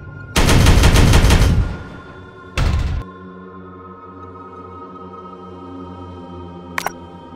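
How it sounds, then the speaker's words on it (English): Gunfire in the Warhammer 40K Regicide game: a loud sustained machine-gun burst of over a second, a shorter second burst shortly after, then a low ambient hum with a faint double click near the end. "Firing on target!"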